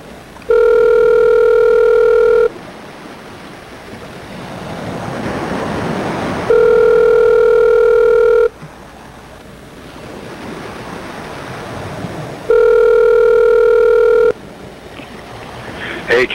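While a phone call is being placed, a loud steady ringback tone sounds in three long bursts of about two seconds each, spaced evenly apart, with a hissing, surf-like rush of line noise filling the gaps.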